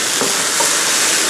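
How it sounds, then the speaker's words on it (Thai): Beef taco filling sizzles and hisses loudly in a pan as it is stir-fried with a splash of stock, a dense continuous frying crackle throughout the short moment. "ผมใช้น้ำสต๊อกลงไป นิดหน่อยนะครับแล้วก็ผัดให้เขาแห้งงวดนะครับ"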